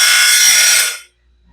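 A grinding stone sharpens a tooth on a Norwood Stellite saw band, a loud, close, harsh hiss that runs for about a second and then cuts off into silence.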